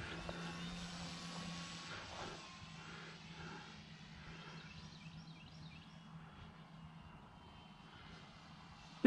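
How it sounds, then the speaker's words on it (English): A radio-controlled PT-17 Red Bull Stearman model biplane flying at a park, its small engine droning steadily at moderate distance, fairly faint and continuous with slight shifts in pitch. "This used to be my trickiest plane to fly."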